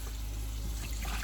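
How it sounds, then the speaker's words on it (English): Running tap water splashes steadily into a kitchen sink as hands are washed, a close, constant rushing stream lasting only a moment. "Just gonna wash my hands really quick"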